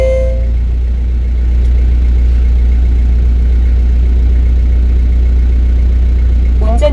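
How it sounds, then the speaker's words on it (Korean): A car engine fires up partway through and settles into a steady, low idle during a Korean driving-licence test, the rumble close and continuous with no talking over it. "5초 내에 엔진 시동을 거세요."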